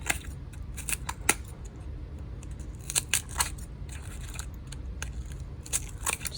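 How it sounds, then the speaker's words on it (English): Scissors snipping and scraping into cardboard for a sculpture, a series of sharp, irregular crisp cuts up close over quiet background. "I take my scissors"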